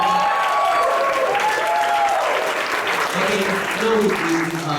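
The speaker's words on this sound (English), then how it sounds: "Can we give him a round of applause for him?" Audience applause at a business presentation, a sustained steady round of clapping with crowd noise, mixed with a voice speaking over it.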